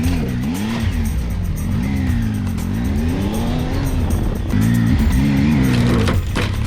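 A 2018 Triumph Tiger XCA motorcycle ridden hard, its engine note rising and falling through repeated revving sweeps, loud and close throughout with no talk over it.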